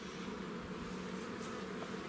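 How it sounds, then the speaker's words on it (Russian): Buckfast honey bees hum in a dense, continuous buzz around hive frames, close and steady throughout with no talk. "Bienen sind ruhig"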